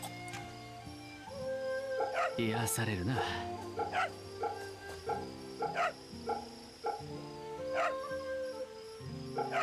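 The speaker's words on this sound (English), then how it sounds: "Puppy." A puppy in the video game Fate/Samurai Remnant gives repeated short yips and barks mixed with soft whimpers over game music, and a person speaks briefly over it.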